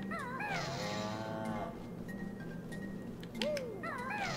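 Cow moo cheat sound from the Banjo-Kazooie video game, with several warbling bovine calls, one long moo and short bursts, fairly faint in a quiet room.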